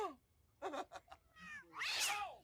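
A domestic cat meows several times in a row, close and fairly loud, with short calls followed by a longer, drawn-out yowl at the end.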